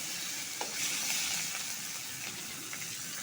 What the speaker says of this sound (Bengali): দুটা শুকনো লঙ্কা দিব লাল লাল করে ভেজে নিব